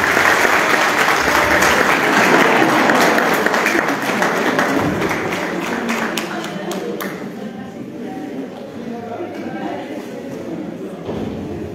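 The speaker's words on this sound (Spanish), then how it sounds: "Fuerte el aplauso." Audience applause at a solemn commemorative ceremony, dense steady clapping from a crowd that gradually thins and fades over several seconds.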